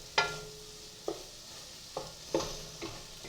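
Flour being stirred as it cooks in a kettle for soup, five sharp scraping strokes spaced about a second apart over a soft, steady sizzle.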